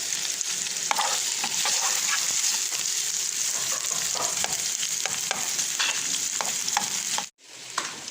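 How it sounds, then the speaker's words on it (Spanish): Finely diced bacon fries in a very hot clay pot, a steady close sizzle and crackle with small pops scattered throughout, briefly cut off near the end before the frying resumes. "Tengo mi cazuela bien caliente, ahí lo voy a colocar para que se fría."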